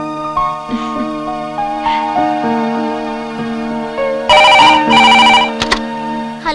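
A telephone rings with repeated electronic tones, loud and close, and a burst of brighter ringing near the end.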